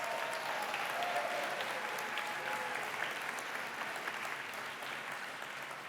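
Steady applause from an audience at a community philanthropy awards event for performers from a Wizard of Oz production, sustained and even clapping throughout, moderately distant with a faint murmur of voices.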